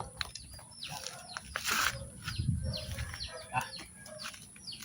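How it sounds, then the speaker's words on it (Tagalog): Chicken clucking in short bursts while being stuffed into a woven bayong bag, with rustling and handling noise close by. "Lalagay na tayo ng manok rito sa bayong natin para ipadala na sa probinsya namin."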